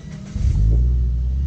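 Subaru BRZ race car engine on a track, a low rumble swelling up into a loud, sustained rev that holds steady and close.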